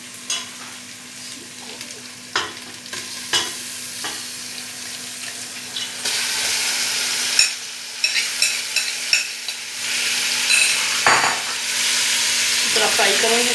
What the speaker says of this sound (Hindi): इसमें सारा मटन ऐड कर देंगे।